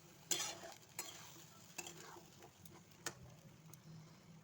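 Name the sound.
stirring marinated chicken in a pan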